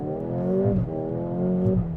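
A 2024 Mercedes-AMG GLA35 on a drive gives a steady, droning exhaust note with a rich, layered hum, heard up close from inside the car for two seconds, with a slight rise and dip in pitch.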